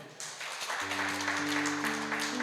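A church congregation at a GBI Sunday service claps together in a steady, close wash of applause, with sustained organ or keyboard tones entering under it.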